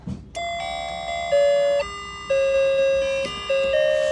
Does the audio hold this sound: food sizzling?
no